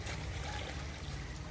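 Irrigation water flowing steadily into a farm field, a soft continuous rushing and trickling wash heard close and fairly quiet, with no voices.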